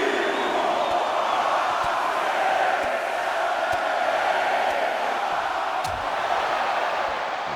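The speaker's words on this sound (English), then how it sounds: "The crowd showing they can count to at least 10." A wrestling video game crowd in a federation match roars steadily and evenly throughout, chanting along as one dense mass of voices.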